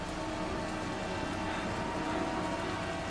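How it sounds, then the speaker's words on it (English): Steady rain falling in a film scene, a dense continuous hiss at even loudness with no voices over it. "The rain doesn't sound that heavy."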